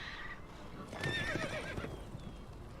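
Horse whinnying from The Witcher 3 video game, a single quiet neigh over soft clip-clopping hooves on a road.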